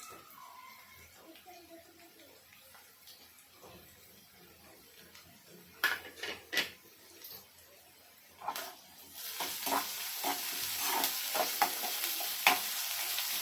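Garlic, ginger and green chilli paste dropped into hot oil for misal, starting quiet with a few clattering scrapes, then bursting into a louder, steady spattering sizzle in the final seconds.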